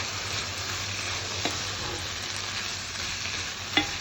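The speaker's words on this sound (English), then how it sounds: "I'm just going to give it a good mix" One-pot chilli sizzles steadily in a pot while being stirred, a constant close frying hiss with a couple of soft scraping knocks from the utensil.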